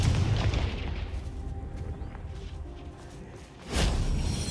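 A Confringo fire-blast spell explodes in Hogwarts Legacy, a sharp booming burst landing late after a rumbling, whooshing game-ambience bed.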